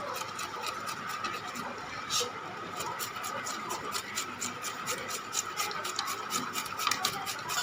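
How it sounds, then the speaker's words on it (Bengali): Peeled home-grown taro (kochu) is rubbed by hand against a grater in a steady, rasping back-and-forth rhythm, close and fairly quiet, with no talk over it. "এবারে আমি এটা দিয়ে ঘষে নেব"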